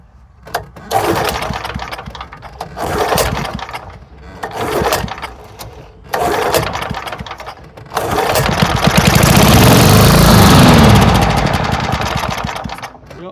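An old Sears and Roebuck push lawn mower salvaged from a scrap pile, with a blocked carburetor, sputters through several short bursts of pull-start attempts, then catches and runs roughly for a few seconds before fading.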